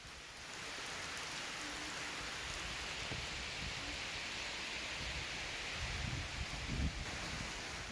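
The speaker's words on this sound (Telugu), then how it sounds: "భారీ వర్షం కురిసింది" Heavy rain pours in Rajanna Siricilla, Telangana, a loud, dense and steady hiss of drops hitting the ground, with a few thumps near the end and no voices.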